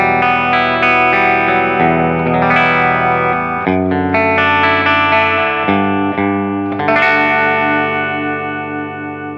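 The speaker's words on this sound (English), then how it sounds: "Let's go to the bridge and just see how sizzly this is here." Bright, sizzly electric guitar chords from a Sire H7V's P90 bridge pickup ring out with a crisp, cutting single-coil edge, played alone with some effects and sustain.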